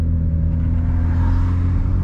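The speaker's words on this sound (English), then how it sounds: "Here we go, off a red light, second gear." BMW 335i pulling away from a red light in second gear, a loud, steady low engine rumble under acceleration heard from inside the car, with no talking.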